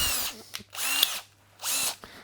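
A power drill with a taper-fit bit whirs in three sustained bursts separated by short pauses, loud and close, with a steady low hum underneath, while woodworking.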